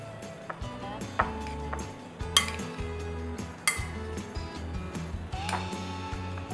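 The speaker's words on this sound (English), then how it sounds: "Let's mix the spices in the mashed potatoes." A spoon stirring spices into mashed potatoes in a bowl for a paneer bread pakora stuffing, giving steady scraping and clinking of metal against the dish, close and continuous with no voices.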